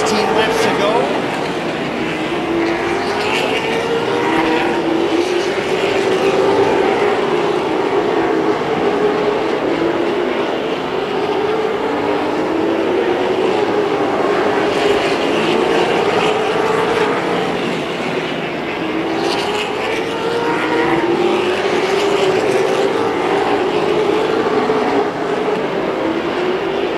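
Race cars lapping a track late in a feature event, a continuous loud engine roar with slow rising and falling swells as the field passes, under a commentator's steady talk.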